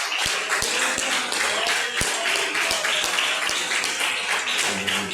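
A church congregation claps for the pastor in loud, dense applause, with sharp rhythmic claps cutting through the sustained roar of the crowd.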